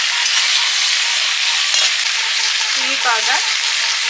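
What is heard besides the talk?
prawns and taro frying with spices in a pan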